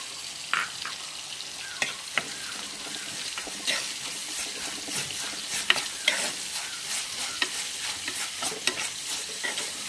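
Crushed ginger, green chilli and garlic stir-fried with salt in a pan, a crackling sizzle layered with frequent scraping and tapping strokes of a spoon, close and steady, no speech.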